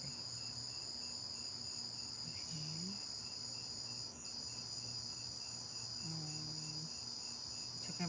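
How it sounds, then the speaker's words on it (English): Steady insect chorus at night, a continuous high shrill buzz from many cicadas holding evenly throughout with a low background hum underneath. "Talking about the cicadas."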